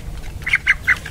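A young chicken gives three short, sharp squawks in quick succession, close and clear over a low background.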